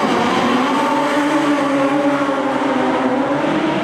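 Stunt cars tear around a live stunt show arena in Orlando, their engines a loud, steady roar that fills the whole stretch without a break and without voices.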